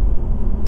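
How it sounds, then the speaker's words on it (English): Low engine rumble inside a car, a loud steady drone that carries no voices and cuts off abruptly. "Right now I'm in a car"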